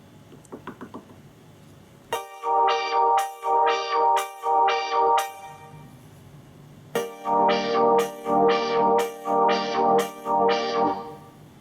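Kurzweil PC4 synthesizer playing a sequenced pattern of user steps with random modulation: two runs of loud, even, pulsing synth notes in a steady rhythm, preceded by a few short soft taps, with no talking.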